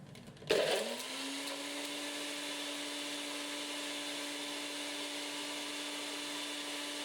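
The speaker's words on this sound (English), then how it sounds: "I'm just gonna blend it in the NutriBullet." A NutriBullet blender grinding pepper and cloves starts up with a short burst, then holds a steady, loud, high-pitched whirring drone close by for several seconds, with no talking.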